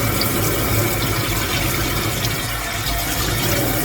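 Steady, loud rush of water running from a tap fed by a water heater, continuous and close with no pauses.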